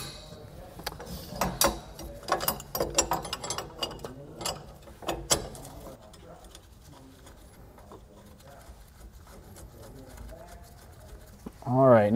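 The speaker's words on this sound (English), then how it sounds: "I'm just doing this with our regular socket wrench just to get it kind of hand tight" A regular socket wrench ratchets nuts onto a Dexter trailer spring plate during an over-under conversion. Fast, bright mechanical clicking comes in bursts up close, then quiets, and someone speaks briefly at the end.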